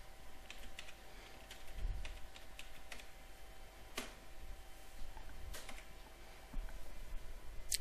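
Soft clicking of a computer keyboard while typing a root login and password at an ESXi server console, irregular quiet keystrokes over a low steady hum.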